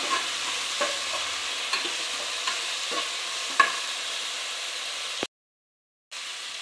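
Tomatoes frying with softened onions in a pan for masala macaroni give a steady close sizzle with a few soft stirring scrapes, then a brief cut to silence before the frying resumes.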